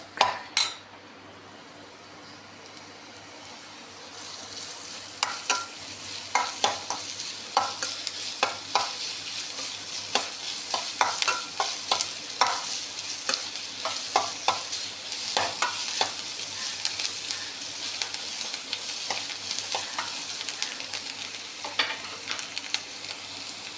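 Onions sautéing in a pan for palak paneer, a steady sizzle under repeated metallic scrapes and clinks of a spoon against the pan, coming in irregular bursts throughout after a few sharp knocks at the start.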